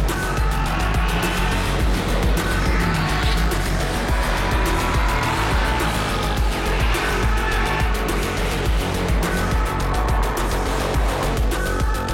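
Race cars fight for the win at Portimão near the finish of a round, their engines roaring loud and continuous with tyre squeal mixed in, and no pause for the whole stretch.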